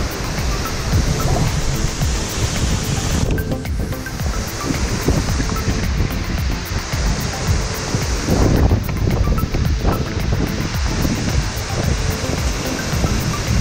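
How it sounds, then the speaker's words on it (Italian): Strong, gusty wind roars steadily into the microphone in Italy's Prealpi Giulie park, buffeting it with heavy low rumble and hiss throughout, with no voices. "C'è un vento pazzesco."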